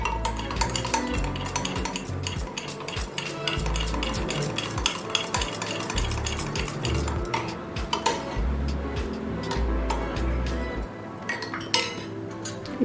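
Condensed milk and milk mix for a strawberry dessert is stirred briskly and continuously, close up, with rapid scraping, sloshing and frequent light clinks of utensil against the vessel.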